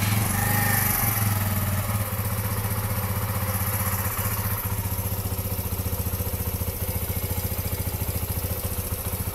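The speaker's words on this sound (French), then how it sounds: "Et là, je vais démarrer la moto." A motorcycle engine sputters to life and settles into a steady, rumbling idle with a continuous low throb throughout.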